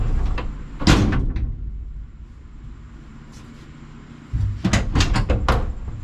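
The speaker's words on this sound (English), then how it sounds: "it shuts a lot better now. It doesn't hit the door striker." A 1982 Dodge Ramcharger door swung open and closed after hinge work, with loud close metal clunks and latch clicks at the start, a quiet pause, then another burst of slams and rattles.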